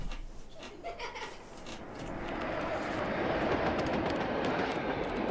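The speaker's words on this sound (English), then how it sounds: "A long goods train, trundling and rumbling" A low, continuous rumble builds and holds steady as a long goods train rolls past close by, with a faint chuckle early on.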